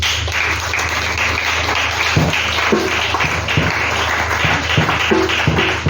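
A congregation breaks into clapping: loud, continuous applause from many hands close by, with heavier thumps and taps mixed into the steady rhythm.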